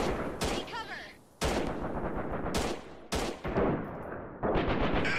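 Gunfire in the video game Freeman Guerrilla Warfare comes in several sharp, loud bursts of rapid shots spread across a few seconds, separated by brief quieter gaps.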